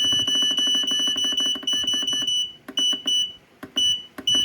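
An 8-channel digital kitchen timer sounds its alarm with rapid repeated high-pitched beeps, first in a dense continuous burst, then in shorter broken groups separated by gaps.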